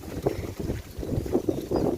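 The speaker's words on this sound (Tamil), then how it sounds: "இது நல்லா காற்றடிக்குது ஃப்ரெண்ட்ஸ்" Strong wind gusts buffet the microphone in rough, uneven bursts, loud and close, with no speech.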